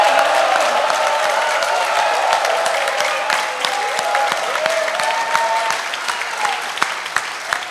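Dense, steady applause from a room full of People Power Party lawmakers at a 22nd National Assembly members' workshop, sustained loudly for the whole stretch with no voices over it.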